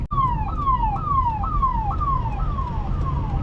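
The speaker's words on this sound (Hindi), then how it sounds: "एम्बुलेंस को निकलने देते हैं।" A loud ambulance siren wails nearby, its falling tone repeating about every half second over road noise.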